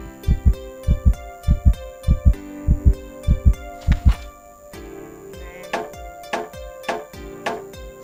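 Rhythmic heartbeat thumps in the video game Soul Hunt, paired beats pulsing steadily and loudly, then fading softer over a low electronic hum.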